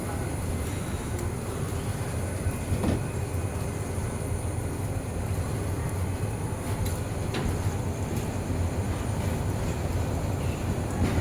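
Passenger train pulling out of Laksam railway station in the rain, heard from inside the rear carriage as a steady low rumble and broadband rolling noise with faint scattered clanks, continuous and fairly close, no speech.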